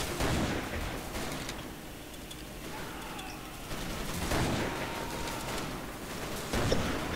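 Rapid bursts of gunfire in the video game Commandos Strike Force crackle continuously, with repeated loud volleys and sustained shooting throughout, dense and chaotic.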